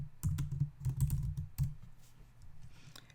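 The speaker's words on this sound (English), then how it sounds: "Excuse me, I'm gonna type in." Quick bursts of keys clacking on a computer keyboard, a short flurry of close, soft taps in an otherwise quiet room.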